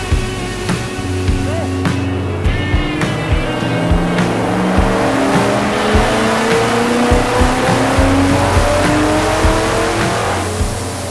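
A ProCharged C6 Corvette with an LSX 376 B15 engine and D-1SC supercharger makes a single chassis dyno pull. The engine note climbs steadily in pitch as revs build, loud and close throughout, with a brief rise and clicks near the start.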